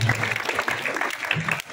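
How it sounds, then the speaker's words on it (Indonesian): An audience claps for student performers after a school Stations of the Cross staging, brisk overlapping applause mixed with murmuring voices and a few shouts. "Tepuk tangan dulu, tepuk tangan dulu untuk pemain-pemain."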